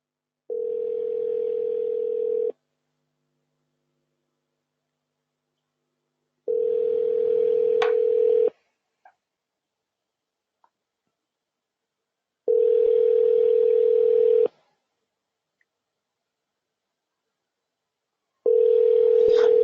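Ringback tone on an outgoing telephone call, four steady buzzing bursts of about two seconds each separated by longer silences, clear and alone with no talking.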